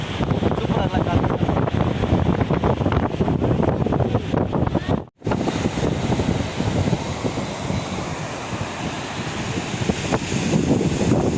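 Strong wind at a beach buffets the microphone continuously with a heavy roar, surf underneath, and a brief dropout midway.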